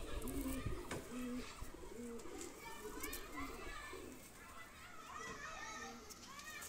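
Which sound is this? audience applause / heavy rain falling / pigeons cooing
pigeons cooing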